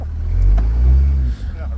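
A car's engine idles and rumbles steadily while reversing, with a brief dip as it rolls over a chunk of wood.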